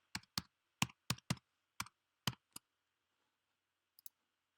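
Computer keyboard keys tapped in a quick irregular run of about nine sharp clicks, then a pause and two faint final taps, close and quiet with no voices.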